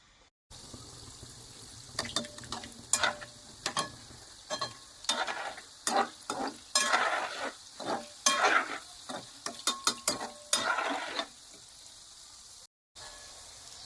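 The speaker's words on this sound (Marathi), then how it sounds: "आता मी दुसरे बॅच तळून घेते." Gulab jamun balls deep frying in hot oil, a steady close sizzle broken by repeated bursts of bubbling and scraping stirs, with no talking.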